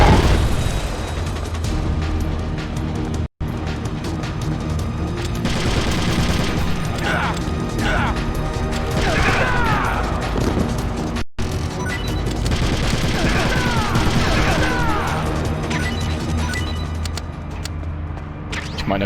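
Gunfire in Metal Gear Solid: The Twin Snakes rattles in dense bursts with heavy booms and explosions, loud and sustained, with a voice talking over the battle.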